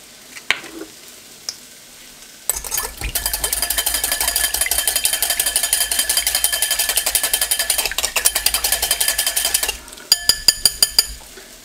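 Egg being whisked with water in a bowl, a steady fast rhythmic clatter of the whisk lasting several seconds, then a few separate taps at the end.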